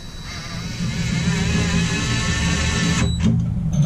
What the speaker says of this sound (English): I'm going to cheat and just run this bolt up.